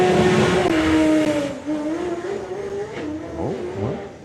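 A Porsche six-cylinder doorslammer drag car roars down the strip at a drag racing meet, its loud engine note climbing through rapid gear changes before fading as it pulls away into the distance.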